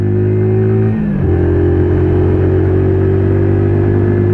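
AJS Cadwell 125cc motorcycle engine droning close and loud, briefly dropping in pitch at a gear change before settling into a steady, higher hum as it pulls through the gears.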